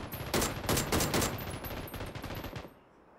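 AK rifle gunfire in the video game PUBG: a rapid burst of automatic shots, loud and sharp, firing continuously for over two seconds before stopping abruptly.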